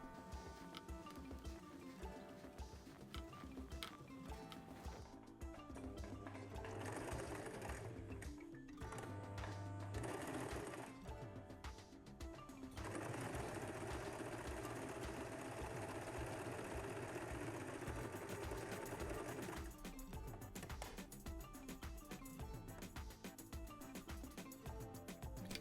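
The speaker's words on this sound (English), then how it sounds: "then just sewing it with some top stitching on the bottom" A sewing machine runs in long steady bursts of rapid mechanical chatter while top stitching a tool pouch bag, pausing briefly between runs, close and fairly quiet.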